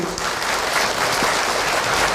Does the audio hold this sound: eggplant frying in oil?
no